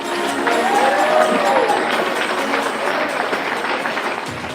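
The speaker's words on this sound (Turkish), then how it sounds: "Alkışlıyoruz" A dense, steady burst of applause on a live stream rolls on at constant loudness with a cheering crowd quality, while a faint tonal sweep rises and falls over it.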